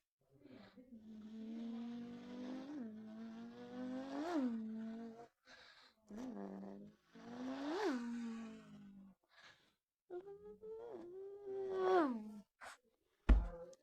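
A voice imitates a motorbike engine revving, with rising and falling drawn-out tones in several bursts separated by short pauses.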